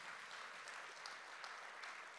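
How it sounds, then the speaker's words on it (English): Congregation at a church service applauding, a steady wash of clapping that holds evenly for a couple of seconds, soft and somewhat distant. "can we give them a round of applause?"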